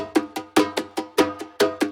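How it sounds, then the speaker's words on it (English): A short percussion loop for electronic music production repeats in a quick, even rhythm of metallic, cowbell-like hits with sharp attacks and fast decays, clear and alone. "For the second layer, I used this percussion loop"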